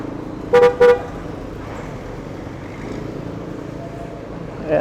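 Two short, sharp car horn toots sound close together near the start over a low, steady rumble of idling road traffic, with faint murmurs of talk in the background.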